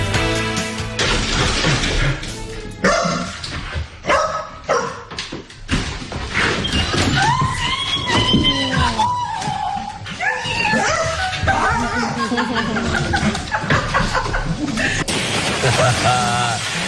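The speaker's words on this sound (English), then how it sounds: "Well, 10 days is too long for this pup to wait for his owner to come back home." A puppy barks, yips and whimpers while it waits for its owner, a NASA Artemis II astronaut, to come home, loud and close for most of the stretch, with some background sound mixed in.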